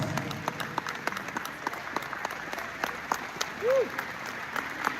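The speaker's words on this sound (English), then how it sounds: "Let's give a round of applause." Moderate audience applause at a live event, scattered claps from a crowd over steady background noise, with a brief vocal sound briefly rising over the clapping near the end.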